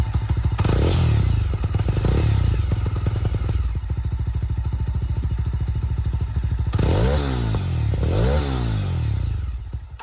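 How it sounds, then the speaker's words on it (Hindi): A Mahindra Mojo 300 BS6 single-cylinder motorcycle revs close by, a loud pulsing exhaust rising and falling in two sharp throttle blips after a steady idle. "भाई सिंगल सिलेंडर में ना इससे बेस्ट साउंडिंग मशीन नहीं हो सकती"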